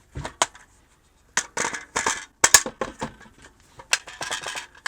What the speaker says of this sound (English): let's see if it actually fits into a normal AK-47